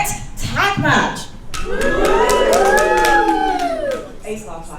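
A wrestling show crowd cheers and claps in a dense, echoing roar, with scattered shouts and a voice talking over the noise, swelling and then easing.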